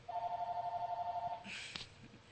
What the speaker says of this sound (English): Never fails, there's the phone, I'll be right back.